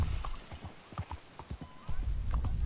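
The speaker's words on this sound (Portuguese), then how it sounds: "Vou roubar um cavalo, velho." Horse hooves clip-clop in an uneven run of close, distinct knocks, with a short high whinny mixed in, set against faint background rumble and no clear speech.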